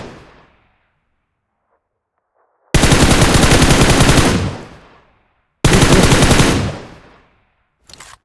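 Video game guns fire in two long, loud, rapid automatic bursts, each a dense stream of shots that trails off, followed by a brief third burst at the end.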